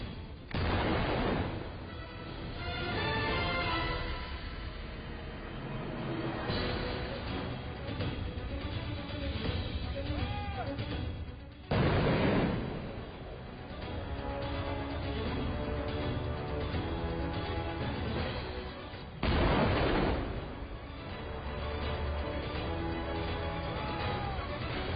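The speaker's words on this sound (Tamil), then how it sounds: "ஒன்றல்ல ரெண்டல்ல 42 குண்டுகள் இப்படித்தான் பாதுகாப்பாக தகர்க்கப்பட்டன" Bombs are destroyed in a controlled detonation, 42 of them in succession, with loud heavy booms at intervals and rumbling blast noise sustained between them.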